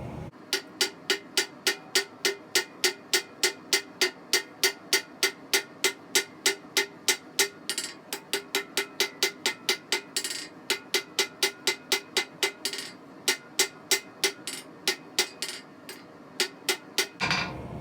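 A hammer strikes hot steel on an anvil while forging the handle of a BBQ fork, a long run of fast, evenly spaced ringing blows with a few short pauses.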